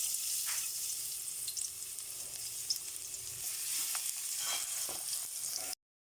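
Garlic sautéing in a pan for pinakbet, a close, continuous frying hiss with occasional stirring scrapes and taps, no voices, cutting off abruptly near the end.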